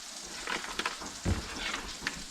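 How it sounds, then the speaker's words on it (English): Sausage sizzles as it fries in a pan while making biscuits and sausage gravy, a faint, steady crackling hiss with a few soft clinks and bumps, heard up close without talk. "So the sausage is cooking"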